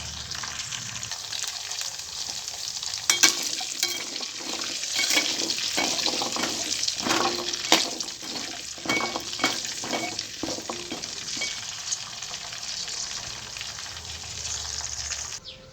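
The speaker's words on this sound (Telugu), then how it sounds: "పచ్చిమిర్చి ఇవన్నీ ఉన్నాయి కదా మన నూనెలో వేపుకున్నాయి." Green chillies frying in hot oil in a home kitchen pan, a steady close sizzle with stirring clatter and scraping throughout, loud and continuous with no talking.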